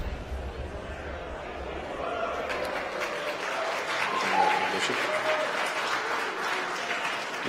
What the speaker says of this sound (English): You might hear the applause in the background.